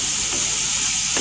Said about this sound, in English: now the butter is melted and the onion became to get sauteed